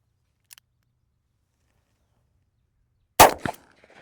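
A Colt Lawman MKIII 2-inch snub-nose revolver fires one sharp, loud shot with a quick follow-up crack and a short fading tail, preceded by a faint tiny click; no talking.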